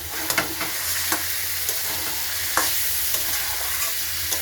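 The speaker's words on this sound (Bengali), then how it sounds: "আমি এখন মাংসটা ম্যারিনেট করে রেখেছিলাম দিয়ে দিচ্ছি।" Marinated meat fries with spices in a hot pan, giving a dense, continuous sizzle close by, with occasional sharp clicks of a utensil against the pan and no talking.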